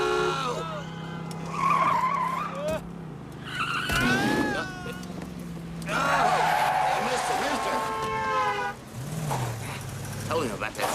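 Stunt cars racing on a figure-8 track at a night event, tires squealing and skidding in repeated bursts with engine noise, under excited announcer commentary.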